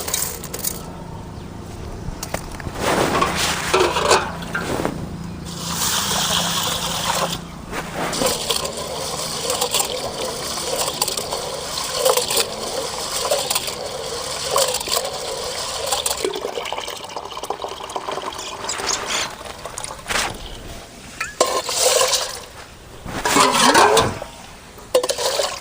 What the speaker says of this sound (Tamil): தண்ணீர் போட்டு சுத்தம் பண்ணி எடுத்துக்கலாம்.